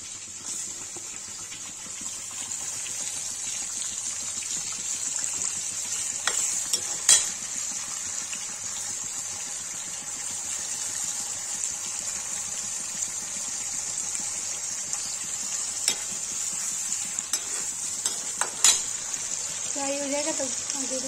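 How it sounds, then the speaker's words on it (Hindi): Paneer frying in a pan and being stirred, a quiet steady hiss and sizzle with occasional scraping clinks and someone talking briefly near the end. "गाइस जी के आलू फ्राई हो गया, पनीर फ्राई करने जा रही हूँ।"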